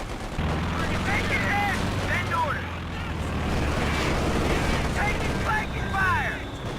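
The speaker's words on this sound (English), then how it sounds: "The strafing run does not stop. It is a long-lasting ability." A strafing run in a video game sends rapid gunfire and rumbling explosions across the battlefield, heard continuously beneath an excited commentator talking over the action.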